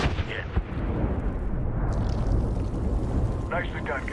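Artillery shells firing in a military video game, a deep booming rumble with a sharp thump early on, heavy low roar throughout and radio-style voices briefly over it.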